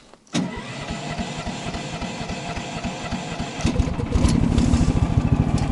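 A Toyota Tundra pickup engine starts in cold weather, a sharp crank catching into a loud, steady, throbbing idle that rises and grows rougher partway through, with no talking.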